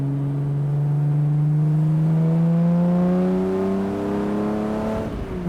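A Jaguar C-Type evocation fitted with Weber carburettors accelerates hard, its engine note climbing steadily and loud throughout before easing off near the end.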